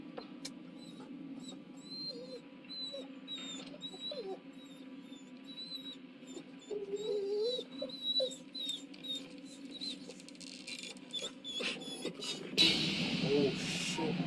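A dog whimpers in thin, high, intermittent whines over a low background hum, with bursts of other noise and a louder rush near the end.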